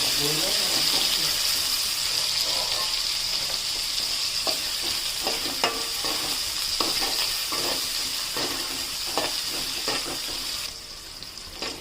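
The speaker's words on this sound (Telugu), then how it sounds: "ఈ ముక్కల్ని ఇలా చిన్నగా వేపుకొని" Pineapple pieces fry in ghee in a pan with a steady close sizzle, and a utensil stirs them with repeated light scrapes and taps. Faint talk runs underneath.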